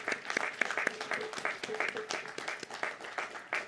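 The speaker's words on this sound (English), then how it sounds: "Very well-deserved applause for our parents." Graduation ceremony audience applauding parents at a college commencement, a dense, steady wash of many hands clapping at moderate distance, with scattered voices and cheers mixed in throughout.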